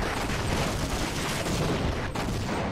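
Rapid overlapping gunshots from the online shooter Half-Life Online blast in a dense, loud barrage with no pauses, covering the whole stretch without talk.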